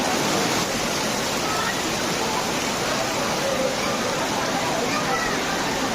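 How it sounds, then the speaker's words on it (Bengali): Heavy midnight downpour during a Durga Puja festival night, a dense, steady roar of rain hissing across the whole clip at constant loudness, close and enveloping with no pauses. "দর্শক দেখতে পাচ্ছেন মুষলধারে বৃষ্টি হচ্ছে"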